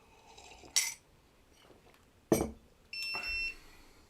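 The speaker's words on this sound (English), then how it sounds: "This is beeping at me." An electronic device, an Ortur Laser Master 3 laser engraver, beeps several times, sharp short tones followed by a longer held beep, close by in a quiet room.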